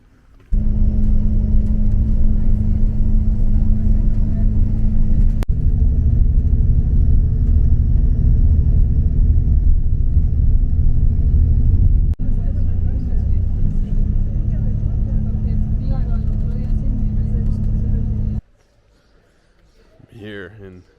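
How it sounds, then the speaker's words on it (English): A bus grinds along toward a ski resort at the base of a mountain in Sierra Nevada, Spain, with a loud, steady low engine rumble and road noise that runs for most of the stretch, then drops away abruptly near the end. "I'm gonna grab the bus that goes to the ski resort at the base of the ski mountain"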